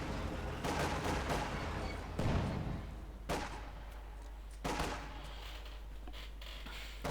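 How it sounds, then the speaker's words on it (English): Gunfire from a Company of Heroes 2 real-time strategy battle: several sharp bursts of shots and a few heavier blasts crack out over a steady background rumble. "A few nasty shots going off."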